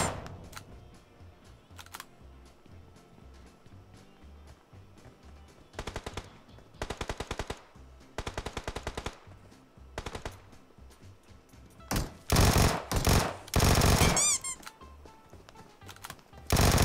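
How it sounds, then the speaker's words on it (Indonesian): Automatic gunfire in the PUBG video game, bursts of rapid shots crackling in several volleys, loudest near the end, between quieter stretches of game ambience. "Dua orang loh nembak gua"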